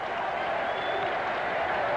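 A large home crowd at a Mets baseball game against the Reds in 1984 holds a sustained cheer and applause that fills the stadium evenly, with no words clearly heard over it.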